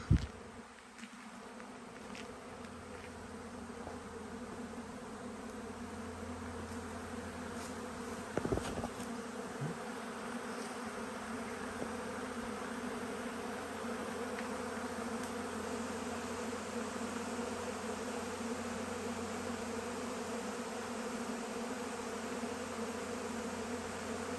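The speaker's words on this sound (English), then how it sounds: "the bees will basically clean up any little bit of honey that is anywhere on my shop" Honeybees buzz steadily and continuously throughout while cleaning up leftover honey in a workshop, a dense swarm-like hum with no talking, a brief louder knock partway through.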